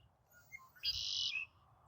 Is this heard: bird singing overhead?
yes